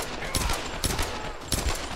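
Gunfire in the video game Tomb Raider 2013, a few loud, sharp shots fired in quick succession over a dense, noisy game soundscape.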